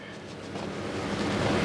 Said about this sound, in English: when you stop the water spigot from flowing, it just drains everything out